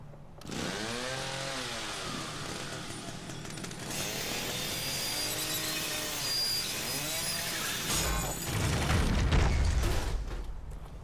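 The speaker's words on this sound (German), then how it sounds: "jetzt können wir hier die Kettensäge benutzen" A chainsaw in the horror video game The Evil Within revs up and down in repeated rising and falling surges, loud and close, ending in a heavy crunching impact, with no talk over it.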